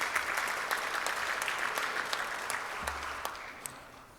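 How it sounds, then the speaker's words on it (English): Rotary club members at a meeting clap steadily for birthdays, a moderate, even round of applause that tapers off toward the end. "Let's give our Rotarians a round of applause for birthdays."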